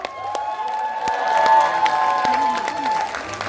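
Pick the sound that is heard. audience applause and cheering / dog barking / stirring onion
audience applause and cheering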